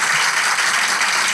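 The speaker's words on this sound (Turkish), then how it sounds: "Alkışlarla!" Studio audience applause, a dense burst of clapping that fills the short moment loudly and evenly.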